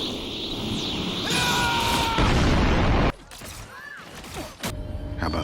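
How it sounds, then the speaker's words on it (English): An Iron Man ultimate nuke explodes in the video game Marvel Rivals, a loud sustained blast with roaring crackling debris that cuts off abruptly, followed by quieter scattered game effects and whooshes. "or, in Iron Man's case, a nuke"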